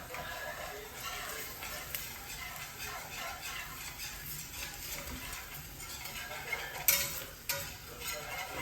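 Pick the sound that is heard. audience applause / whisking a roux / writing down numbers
whisking a roux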